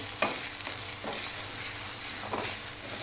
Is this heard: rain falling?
no